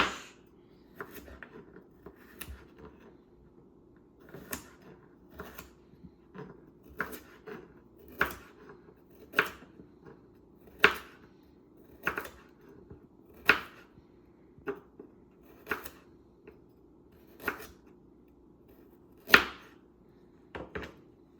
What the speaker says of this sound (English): once you've peeled the carrot, I'm just going to cut the ends off, and then we're going to cut them at a diagonal